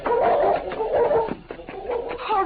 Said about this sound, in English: Outside the house, the powerful dog pulled against the chain that held him.